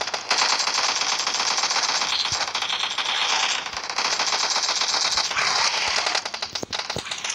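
Gunfire in the PUBG Mobile zombie mode, dense rattling automatic bursts that run almost continuously with sharp crackles on top and a few louder single shots near the end.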